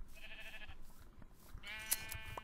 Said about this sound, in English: we're going to have to kill some of these sheep